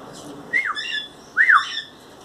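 A pet cockatiel gives two loud, sharp squawks about a second apart, each a rising-and-falling screech over a quiet room with faint background hiss.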